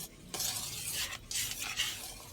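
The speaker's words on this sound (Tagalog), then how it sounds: "Haluin lang natin ng maigi guys, at para matanggal yung mga matunaw yung namumuong all-purpose" Flour and water batter for puto cheese being stirred, a spoon or whisk scraping and swishing steadily against a bowl, close and fairly loud with brief pauses between strokes.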